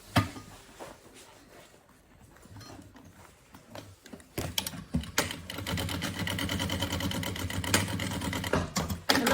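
Sewing machine stitching piping onto a bunny-shaped backpack, starting with quieter intermittent mechanical clatter and then running steadily and louder through the second half, close by.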